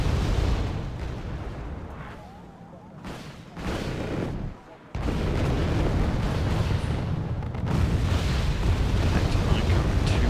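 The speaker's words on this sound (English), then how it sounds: "Here, the mortars stunning anything that tries to move up." Mortar rounds land in a Wargame AirLand Battle match as dense booming blasts and rumbling bursts. The fire comes in waves with short lulls between them, and a voice talks over part of it.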